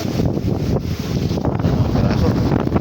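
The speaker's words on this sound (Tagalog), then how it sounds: "lakas na ng hangin" Strong wind buffets the microphone in a steady, heavy roar with low rumbling gusts throughout, no talking.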